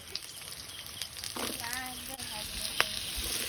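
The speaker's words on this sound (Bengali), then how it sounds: "কড়াইতে তেলে দিয়ে দিচ্ছি গোটা জিরে" Whole cumin seeds fry in oil in a wok, a soft, close crackling sizzle that builds slightly, with a brief voice passing over it.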